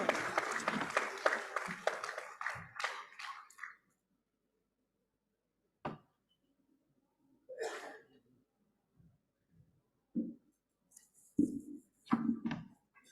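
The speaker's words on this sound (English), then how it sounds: "Can we have a great round of applause" Conference audience applauds for a few seconds, fairly quiet clapping that dies out quickly, followed by near silence broken by scattered small noises, shuffles and breaths.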